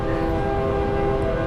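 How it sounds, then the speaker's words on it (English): A train in East Nashville, heard as a steady, droning horn chord with a low rumble beneath it, held continuously and fairly loud throughout. "I hear the train coming"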